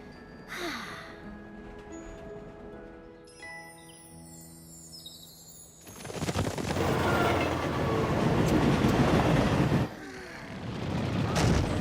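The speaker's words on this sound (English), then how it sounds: "We're getting awfully close to the train" Cartoon train rumbling along the tracks, a loud dense clatter that swells from about six seconds on and holds steady, with a brief break before it rises again, following quieter tonal music and effects.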